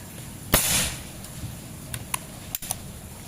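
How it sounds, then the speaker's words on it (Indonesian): Predator Python P-32 PCP air pistol with a stainless tube and 25 cm barrel fires once with a sharp crack, followed by a few faint light ticks and taps as the pellet strikes a small metal target; no talk. "Kita akan tembak target metal yang kecil yang tengah terlebih dahulu."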